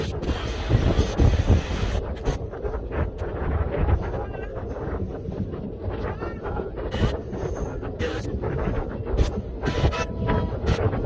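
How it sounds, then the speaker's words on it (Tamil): A Garudadri Express passenger train runs along the rails, giving a steady, loud rumble of wheels and carriage noise with wind buffeting the microphone throughout. "நம்ம ட்ரெயின் திருத்தணியை வந்து ரீச் பண்ணியிருக்கோங்க"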